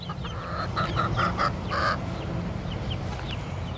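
Sapphire Gem chickens cluck in a rapid burst of short, close calls as they chase each other after a piece of bread, with a low steady rumble underneath and no voices.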